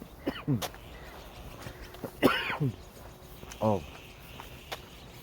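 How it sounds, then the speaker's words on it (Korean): A few brief, soft throat-clearing coughs, spaced apart, against a quiet outdoor background during an early-morning walk in dry, cool air of about 14°C. "살짝 헛기침이 나오네요"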